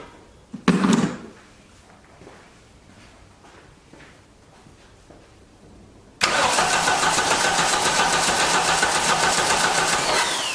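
A 1989 Dodge Daytona, long parked in a junk yard, cranks with a few brief bursts and then catches, settling into a loud, steady running engine roar that holds to the end.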